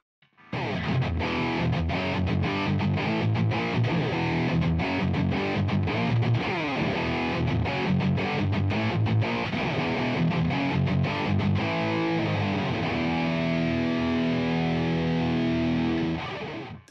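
Heavily distorted electric guitar played through an AmpliTube preset modeled on a signature guitarist's tone, dense chugging riffs, then sustained ringing chords toward the end, loud and steady with no talking.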